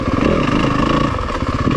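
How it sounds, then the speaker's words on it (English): A 2026 Yamaha WR250F dirt bike rolls along with its engine held at a steady sweet spot, giving a loud, close, even purr with light mechanical clatter and no talking. "I find a sweet spot in the motor that I like, and I just let it purr"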